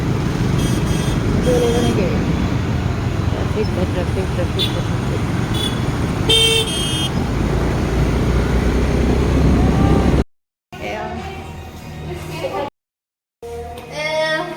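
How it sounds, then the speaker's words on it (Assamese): Steady road traffic rumbles close by with passing cars and an occasional horn toot, while people talk over it; near the end the sound cuts out in brief gaps. "ট্ৰাফিক"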